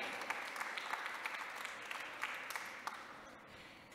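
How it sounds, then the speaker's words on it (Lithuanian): An audience at a green mobility awards ceremony applauds the winners with continuous, fairly faint clapping and scattered sharper claps throughout. "belieka publikai dar kartelį pasveikinti visus nugalėtojus garsiais aplodismentais"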